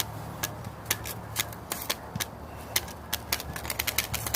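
Playing card clipped to a bicycle so it flaps against the spinning spokes, giving a steady run of sharp dry ticks that quicken toward the end, fairly close, with no voices.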